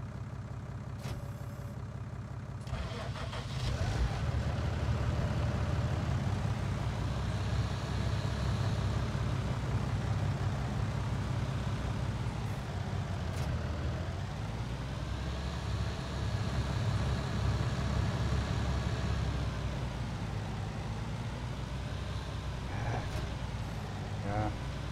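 Tractor engines in a farming video game idle and rev in a steady, continuous drone that rises and falls in pitch a few times, while a person talks over it throughout.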